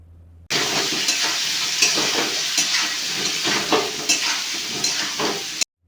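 Kuchia fish frying with salt, panch phoron and bay leaves, stirred continuously: a loud, close, dense sizzle with repeated scraping strokes of a spatula in the pan, no one speaking.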